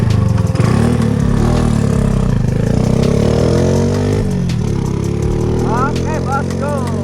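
A Honda Astra motorcycle engine runs loud and close with a steady throb that rises and falls slightly as it is revved, while a person talks over it.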